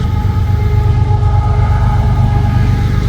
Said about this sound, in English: Sorry, a train's going by.